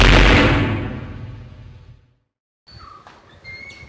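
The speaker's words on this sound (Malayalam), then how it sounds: "എവിടുന്നിപ്പൊരു വെടിവെച്ച് കേൾക്കുന്നു" A single loud gunshot cracks close by and its echo fades over about two seconds. A short silence follows, then faint, scattered outdoor sounds.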